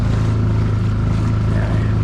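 A skiff's outboard motor idles at La Jolla with an imperfect idle that doesn't stay smooth, giving a steady, close, low engine drone for the whole stretch with no voices.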